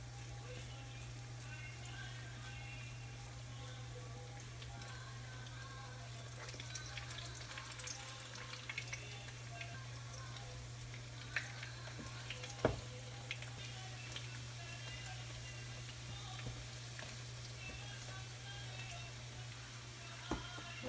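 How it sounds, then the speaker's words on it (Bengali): Pakoras frying in hot oil give a faint, steady sizzle with light crackles and occasional ticks, heard at low level under a constant hum throughout. "পাকোড়া ভাজিটাও অলমোস্ট হয়ে গেছে। অন্য সাইডে ভাজি করছি"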